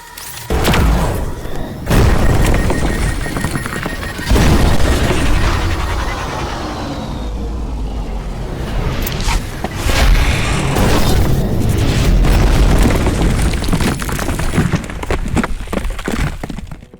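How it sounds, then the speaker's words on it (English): Aircraft explosion as a transport is shot down in the video game Beautiful Desolation: heavy booms, cracks and shattering debris over a dense, loud rumble that continues throughout, with repeated impacts and no talk. "on the way the transport gets shot down"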